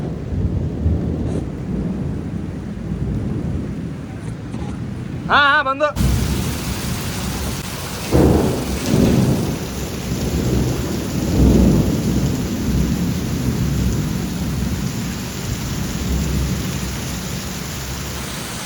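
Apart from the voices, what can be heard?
heavy rain with thunder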